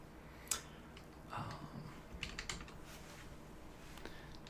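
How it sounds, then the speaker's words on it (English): Quiet clicks of typing on a computer keyboard, a short burst of keystrokes with a brief pause between them, faint and close. "Actually, I can just type it in here."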